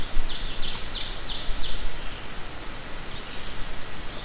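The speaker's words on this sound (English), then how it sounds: "Chirping bugs and the occasional flap of birds seemed to be my only company in this room." Quiet outdoor ambience with soft rustling and faint, repeated high chirps from birds or insects drifting in the background.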